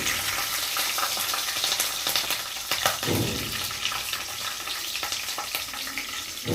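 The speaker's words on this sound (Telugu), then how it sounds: "ఇప్పుడు పచ్చిమిరపకాయలు వేసుకుందాం." Green chillies frying in hot oil for lemon rice, a steady close sizzle with crackling pops and stirring scrapes throughout, with no talking.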